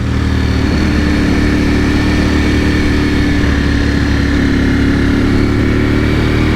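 A 2021 Ducati Panigale V4S runs steadily at speed, its loud engine drone constant and close alongside heavy wind rush, with no voices heard.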